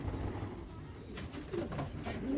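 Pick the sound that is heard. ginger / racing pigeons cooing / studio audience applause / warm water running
racing pigeons cooing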